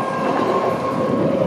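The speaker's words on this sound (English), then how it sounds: "There goes the train over there." A passing train fills the air with a loud, steady rumble and rolling wheel noise, constant and close throughout the short stretch with no voices.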